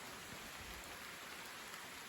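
Rain showers pour down after a night thunderstorm, a constant broadband patter of drops hitting surfaces, steady and unbroken, with no voices present.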